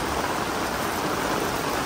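Heavy rain pouring down steadily at a grave site, a dense, even hiss with no breaks, loud and close with nothing else standing out.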